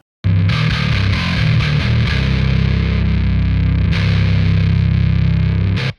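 A heavily distorted metal bass guitar with its EQ filters switched off chugs loudly and continuously, sounding thick, muddy and boomy in the low end before stopping suddenly.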